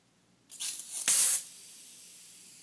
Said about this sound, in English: So here I'm creating the mist, as you can see, and it's pretty good.